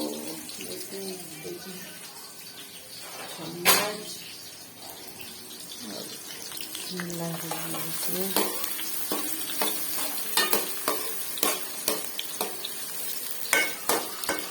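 Brinjal frying in ghee gives a steady low sizzle, with sharp clinks and scrapes of stirring that grow more frequent toward the end.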